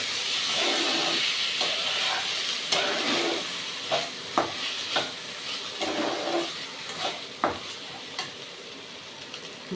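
Rice is stirred in oil in a pan for pulao, a continuous close sizzle and hiss punctuated by repeated rhythmic scrapes and knocks of the spoon, with no talking.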